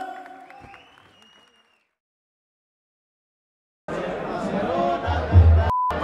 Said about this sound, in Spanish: Un fuerte aplauso, plebada